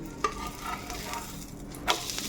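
An onion paratha cooking in light ghee on a pan, a soft continuous sizzle with occasional scrapes as it is turned, fairly quiet and close, no talking.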